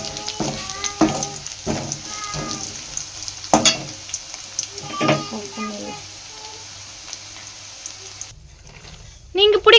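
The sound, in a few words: vadagam tempering, sizzling in oil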